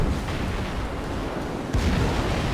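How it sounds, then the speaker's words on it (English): Battleship secondary guns fire in World of Warships, a dense roaring rumble of heavy gunfire with a sharp booming report partway through, loud and continuous throughout. "He's launching secondaries."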